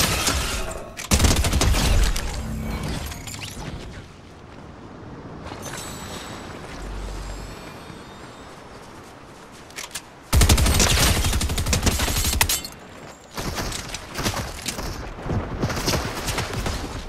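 Gunfire in a Fortnite zero build match, with loud bursts of rapid automatic shots and heavy blasts that come in several clusters, broken by quieter stretches of rumble and debris.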